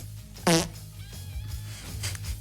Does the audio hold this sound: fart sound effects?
yes